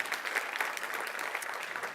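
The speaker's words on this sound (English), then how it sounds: "please give them a quick round of applause as well" Conference audience applauding at the closing of a Stanford Medicine Big Data Precision Health event, a steady, dense round of clapping from a large crowd that holds evenly through the whole moment.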